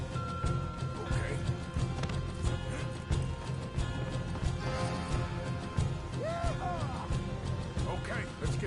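Horses in Red Dead Redemption 2 gallop with a busy, continuous clatter of hooves under shouting voices and game music, and a couple of short whinnies break through near the end.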